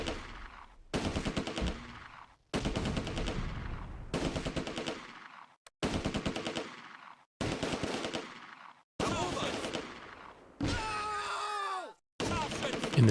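Mortar fire on German infantry in the Close Combat war video game: a series of about eight loud, sharp blasts in a steady rhythm, each with a decaying rumble, then brief rattling gunfire near the end.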